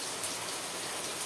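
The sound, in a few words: rain falling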